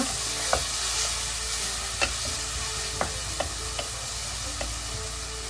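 Ginger garlic masala frying in a pan on the stove, a continuous close sizzle broken by a handful of sharp spatula scrapes and taps at irregular intervals, no talking.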